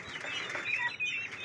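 Hungry farm turkeys squawk and cluck in a noisy, continuous chorus, with a flurry of wing flaps, all fairly close and without any talking.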